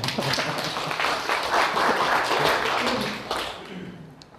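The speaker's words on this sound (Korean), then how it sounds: "기대하시면 박수 치셔야 돼요" An audience at a lecture on the Analects breaks into applause, a steady wash of many hands clapping for several seconds before tapering off.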